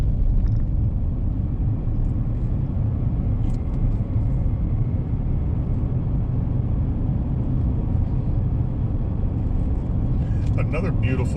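A car cruises steadily through the redwood forest of Richardson Grove State Park, its cabin filled with a constant low road-and-engine rumble that holds even from start to finish.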